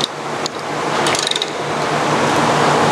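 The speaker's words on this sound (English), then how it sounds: "The machine has, on both sides, a ratcheting crank handle." On a Model 480P pneumatic bandsaw, a ratcheting crank handle is turned to raise or lower the blade, producing a short run of metallic clicks over steady machine-shop noise.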